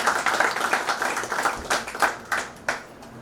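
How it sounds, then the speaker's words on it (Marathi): An audience at a school golden jubilee ceremony claps in a dense, steady burst that thins out into a few scattered louder claps before fading. "एकदा जोरदार टाळ्या"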